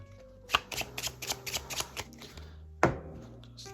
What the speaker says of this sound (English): I'm just going to go ahead now and shuffle up these piles